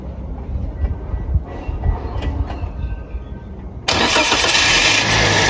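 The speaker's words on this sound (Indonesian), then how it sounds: "Coba kamu nyalain mesinnya ding" Daihatsu Sigra R 2019 with a 1200 cc engine turning over and settling into an idle, the start marked by a sudden jump to a loud, steady broadband hum that holds to the end after a quieter rumbling stretch.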